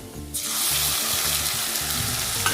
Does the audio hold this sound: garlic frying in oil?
yes